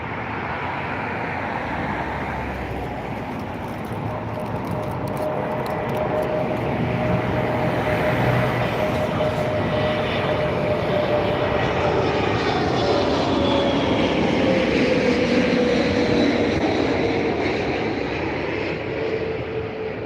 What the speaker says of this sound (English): Right now we have the SAS A320 Neo coming up right on your screen right now.